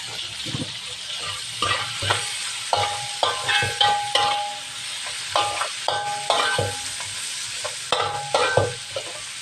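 Chopped onion and garlic stir-frying in oil for nasi goreng, a loud close sizzle broken by a regular rhythm of spatula scrapes and clanks against the pan, repeating roughly every half second to a second, with no talking.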